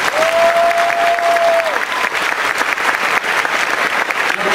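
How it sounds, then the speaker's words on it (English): A large convention crowd at a Dallas fan event claps and cheers steadily for the volunteers, dense sustained applause filling the hall, with a brief tonal whine near the start. "Lead us in a round of applause for our volunteers."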